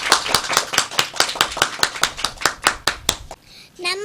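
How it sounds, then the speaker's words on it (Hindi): An audience applauds a girl walking onto a stage at an event. The clapping comes as a run of sharp, fairly even claps and stops after about three seconds, followed by a short voice. "डॉली का जोरदार तालियों से स्वागत कीजिए।"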